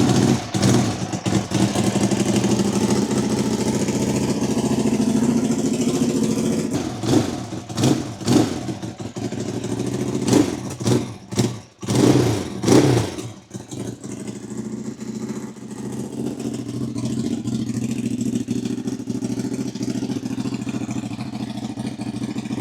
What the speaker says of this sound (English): now we are gonna try and start the bike and see if everything works